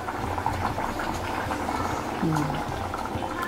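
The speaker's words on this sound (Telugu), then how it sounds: "ఇట్లా ఉడుకుతుంది చూడు" Fish pulusu made with korameenu (murrel) fish bubbling in a pot on a stove, a steady low simmering burble with a brief tonal gurgle partway through, heard near under faint background voices.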